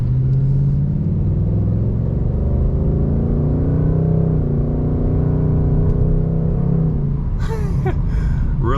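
Engine of a 2024 Ford Mustang Dark Horse with a 10-speed transmission pulling away onto a street, a steady loud rumbling drone that builds smoothly, heard from inside the car with no talking.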